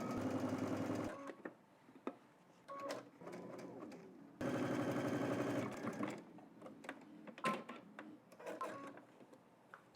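A sewing machine stitches a button-up shirt along a guide, pivoting at the corners, in two sustained runs of steady motor hum and needle chatter separated by pauses filled with faint handling clicks and rustles.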